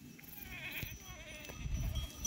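Goats approaching along an outdoor mountain descent, bleating several times at close to middle distance, with a faint bell clinking and some background rustle.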